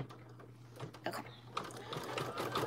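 An embroidery machine stitches an outline, a faint steady mechanical whir with rapid clicking needle strokes and a low hum underneath, with some background noise.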